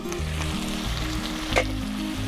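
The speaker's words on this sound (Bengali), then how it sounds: "নেড়ে চেড়ে দেব।" Chicken kosha sizzles in a pan while being stirred, a dense steady frying hiss with a low rumbling hum beneath and a brief scrape of the spoon.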